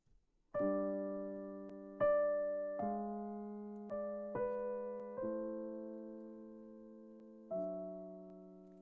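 A slow piano line from Silent Night, single sustained notes each struck cleanly and left to ring and decay, about six notes with gaps between them, no voices.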